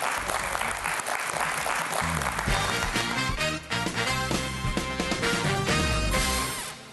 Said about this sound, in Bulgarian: Аплодисменти за Пламен.